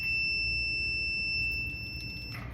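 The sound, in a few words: multimeter continuity beep while testing a Samsung dryer heater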